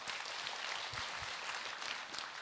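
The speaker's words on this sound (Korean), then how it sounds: "박수 좀 해주세요." An audience at a Buddhist dharma talk applauds in a steady, dense patter of many hands clapping together, with no voices over it.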